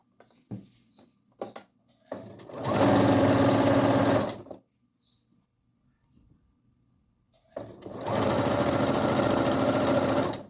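A sewing machine stitches the hem of a stroller diaper cloth in two steady bursts of close, loud running, with quiet handling clicks between them.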